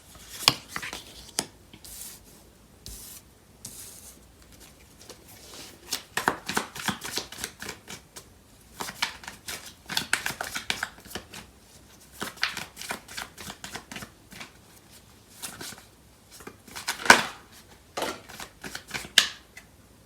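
A deck of tarot cards being shuffled by hand close up, with quick bursts of riffling and sliding card flutter repeating in irregular runs, separated by short pauses and no talking.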